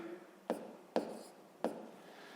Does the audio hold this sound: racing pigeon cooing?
no